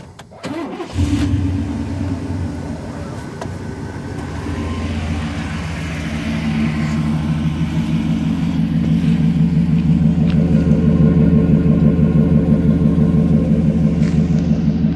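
A Chevrolet OBS pickup truck engine cranks and fires up, then settles into a loud, steady rumbling idle that holds close by for the rest of the stretch.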